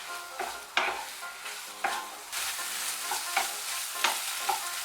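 Bitter gourd with slit green chillies is stirred in a sizzling pan, with a continuous fry hiss and regular scraping strokes of a spoon roughly every second.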